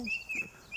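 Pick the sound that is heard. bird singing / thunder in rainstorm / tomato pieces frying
bird singing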